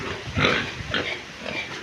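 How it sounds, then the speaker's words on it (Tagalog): Pigs grunting near a hut on a muddy path in light rain, a few short snorting grunts in a loose rhythm, fairly close. "Dami ng baboy."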